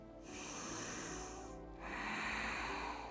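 Two slow, audible inhalations through the nose during a yoga breathing exercise, close and breathy with a short pause between them and no talking.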